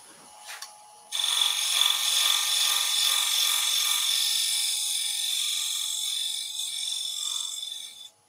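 A wood lathe turns a pumpkin box while a skew chisel shapes it, giving a steady, loud, continuous high whirring cut that runs for about seven seconds and then stops abruptly, with no talking.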